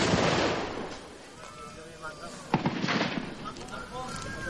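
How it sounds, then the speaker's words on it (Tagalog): Heavy booming cannon blasts and sharp reports from fighting between the military and BIFF fighters in Maguindanao echo in the distance over a noisy outdoor background, with a loud burst at the start and another midway. "Umalingaw-ngaw mga putok ng kanyon"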